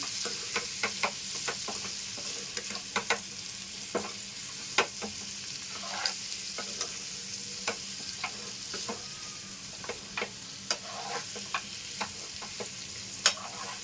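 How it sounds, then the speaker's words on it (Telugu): Mushroom masala sizzles in a pan while a spoon stirs it, knocking against the pan in sharp, irregular clicks over the continuous frying hiss. "వీటిని జాగ్రత్తగా ఒకసారి కలిపేసుకుందాం అండి"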